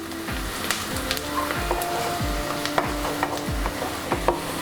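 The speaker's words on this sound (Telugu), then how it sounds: "ఉల్లిపాయలు లైట్ గోల్డెన్ బ్రౌన్ వచ్చే వరకు మనం ఫ్రై చేసుకుందాం." Onions frying in a pan until light golden brown, a steady close sizzle with a rhythmic scraping of a spoon stirring about once every second, no voices.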